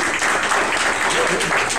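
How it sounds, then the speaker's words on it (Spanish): Steady applause from a conference crowd, a dense continuous clatter of clapping that fills the whole moment at fairly loud volume. "Así que un aplauso a María, muchas gracias por la presentación."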